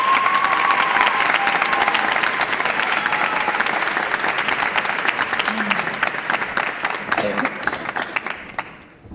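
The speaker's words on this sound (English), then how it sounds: "Give her a round of applause," Dense, loud applause from a large audience at a high school speech state finals, continuous clapping for about nine seconds before fading out at the end.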